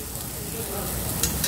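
Jeju black pork sizzling on a grill, a steady, close crackling hiss of frying fat with a few sharper pops near the end, alone without talk.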